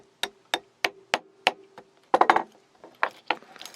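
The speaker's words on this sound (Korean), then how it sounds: "이건 핀만 빼볼게요 망치로 꽝꽝꽝꽝" A small hammer taps out a pin from a silver metal watch bracelet: a run of sharp, evenly spaced knocks, then a quick cluster of taps and a few more strikes, close and clear.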